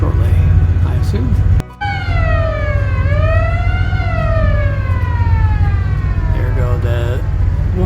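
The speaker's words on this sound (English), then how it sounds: "The warning sirens indicating he's about to open the bridge" Drawbridge warning sirens wail ahead of the bridge opening, a loud rising-and-falling electronic tone sweeping slowly up and down, heard close over a steady rumbling background after a short thump.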